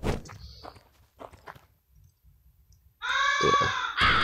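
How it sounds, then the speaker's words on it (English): A video game crow in LISA The Painful gives a loud harsh caw near the end after scattered footstep-like thuds and soft game sounds. "Oh yeah, a crow."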